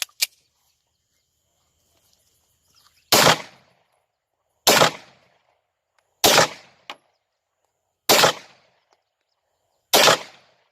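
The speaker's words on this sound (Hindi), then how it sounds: "बिल्कुल ठीक फायर हुआ, except for that one jamming" Single gunshots from a gun firing reloaded cartridges, five sharp loud reports spaced about one and a half seconds apart, each with a short decaying tail and silence in between.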